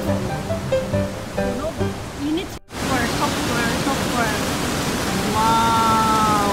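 The Storforsen rapids in Sweden roar as a steady, broadband wash of rushing water, loud and constant under excited voices nearby.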